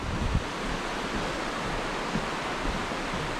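Waterfall beside a trail during a trail marathon, heard as a constant broad roar of rushing water, steady and fairly loud, filling the whole moment without any talk.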